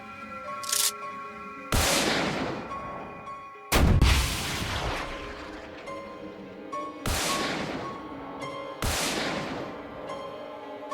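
Five loud gunshots fire at irregular intervals at bears at a bear ranch in Hachimantai, Akita, each a sharp blast with a booming tail, one notably heavier than the rest.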